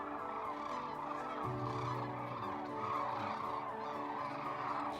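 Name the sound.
flock of birds calling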